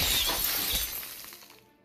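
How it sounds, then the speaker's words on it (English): Glass shatters in a loud, close crash, and the fragments tinkle and scatter before fading out in under two seconds, with no voices present. "erupted into a shower of glass shards and wires across the street"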